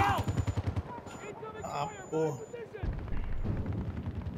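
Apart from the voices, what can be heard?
gunfire in video game Battlefield 2042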